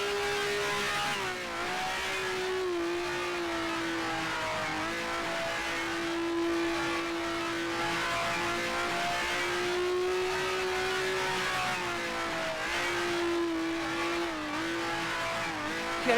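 A 1967 F1 race car in the Grand Prix Legends sim at Indianapolis Motor Speedway, its engine holding a steady high drone with slight pitch wavers as it shifts, continuous and close throughout.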